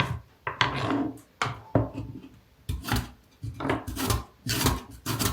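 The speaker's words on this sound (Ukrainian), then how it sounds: "І також покажу на таку терку" A potato sliced thin on a hand grater for homemade chips, a series of rhythmic rasping strokes, close and loud, each a short scrape followed by a brief pause.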